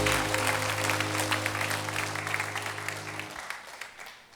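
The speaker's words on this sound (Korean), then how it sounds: "박수를 다시 한번 올려드립니다." A church congregation applauding during a Sunday service, dense clapping over a sustained low musical tone that cuts off near the end while the applause fades.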